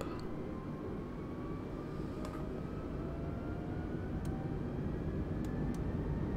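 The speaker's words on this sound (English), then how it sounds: "And we're on the runway, so let's start throttling up" Aircraft engine throttling up on a runway in Microsoft Flight Simulator 2020, a steady, loud engine roar that gradually builds in pitch and intensity with a few faint clicks, no talking.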